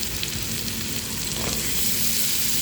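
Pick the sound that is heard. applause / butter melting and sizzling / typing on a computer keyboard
butter melting and sizzling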